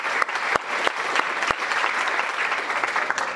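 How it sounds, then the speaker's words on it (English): A crowd applauding steadily, dense clapping with a few sharp louder claps standing out, sustained throughout. "a round of applause for our speakers"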